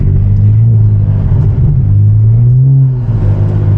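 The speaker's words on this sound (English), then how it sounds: "I gotta put it into third gear, and I gotta build my momentum so I can get up that hill" A rear-wheel-drive coupe in third gear accelerates uphill through a Canadian blizzard, its engine droning loud and steady with a deep rumble and a slight rise in pitch, heard close from inside the car.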